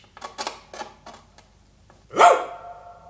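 A dog gives one loud, sudden bark near the end, following a stretch of quieter, scattered sounds.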